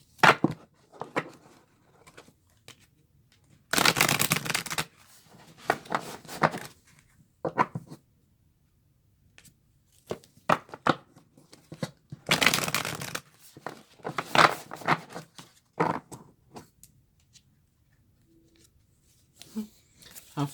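A deck of tarot cards is shuffled in several riffling bursts, each a brisk flurry of papery flicks, close and clear, with quiet pauses and faint talk between them.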